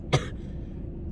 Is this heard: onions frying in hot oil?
no